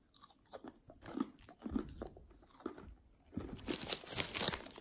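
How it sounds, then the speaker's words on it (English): Crunchy chewing of a very salty Japanese rice cracker from a Lawson convenience store, close and fairly soft, with repeated bites and crackling crunches that grow busier toward the end. "It's like a very salty rice cake thing."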